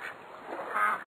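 A single short duck quack from a children's alphabet learning app, clear and close, heard alone.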